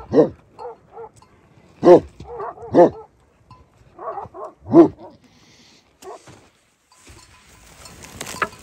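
Large flock-guarding sheepdogs bark in a series of loud, deep woofs at close range, some in quick pairs, trailing off into quieter distant noise toward the end.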